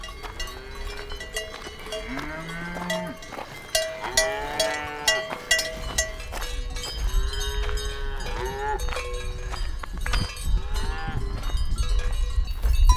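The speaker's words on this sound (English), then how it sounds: "Cows, they live here up too, so when you go for the hike you just pass them" Cattle moo repeatedly along a mountain hiking trail, several drawn-out calls overlapping at close to middle distance, with a faint cowbell clank and outdoor background between them.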